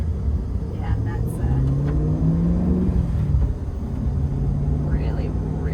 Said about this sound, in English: Just hearing the roar of the engine too when you're out